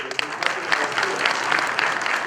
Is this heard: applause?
yes